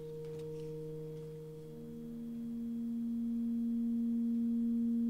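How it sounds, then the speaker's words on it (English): A gusheng sample with an Ebow preset in Logic Pro X holds smooth sustained drone tones, one pitch gliding into another, soft and steady with a slow swell in volume. "we have the gusheng also, but with another preset, Ebow, which is sounds like a drone"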